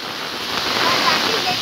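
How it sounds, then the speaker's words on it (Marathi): Heavy rain pours beside the Ulhas river during a flood, a dense, loud, continuous hiss with gusts of wind buffeting the microphone and a voice faintly beneath. "फुल जोराचा पाऊस आहे मित्रांनो"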